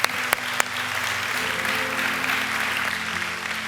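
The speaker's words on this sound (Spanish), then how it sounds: "dale un fuerte aplauso al Señor" Congregation applauding inside a church, sustained even clapping from a crowd with a low steady hum beneath and a couple of sharper close claps near the start.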